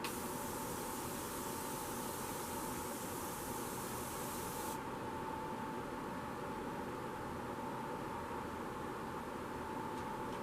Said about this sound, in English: I always like to finish off a look with a little bit of setting spray